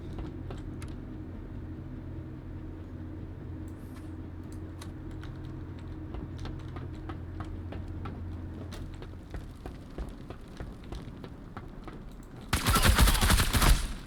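A gun fires in the video game Marauders, sharp rapid shots crackling over a low rumbling background, with a sudden loud burst of noise near the end.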